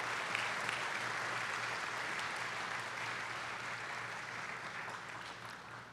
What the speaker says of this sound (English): join me in one more round of applause for the symphonic band